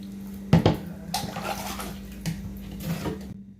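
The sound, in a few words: pouring water while washing a body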